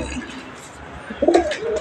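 A pet pigeon or dove coos near the end, a short close call heard over faint background noise and a low rumble.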